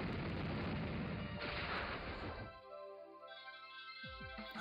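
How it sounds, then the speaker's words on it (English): Explosion move in the Pokémon Sun video game battle: a loud, sustained burst of noisy blasting roar that cuts off after about two and a half seconds, followed by quieter tonal game music with a few thumps. "Explosion."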